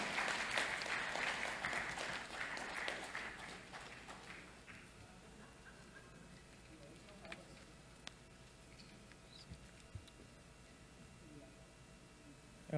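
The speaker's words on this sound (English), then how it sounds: "please give them a big round of applause once again" Audience applause at a tech event fills the opening seconds with brisk clapping, then quickly thins out to a quiet room with scattered ticks and faint background noise.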